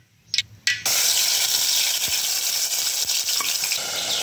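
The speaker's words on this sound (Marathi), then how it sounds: "आणि आता हे जे तेल आहे ना, आता यामध्ये तेल टाकून आता मस्तपैकी मटण आता फोडणी देते" Mutton hits hot oil for tempering. A couple of quick taps come first, then a loud sizzle erupts and holds steady, with occasional stirring knocks and no talk.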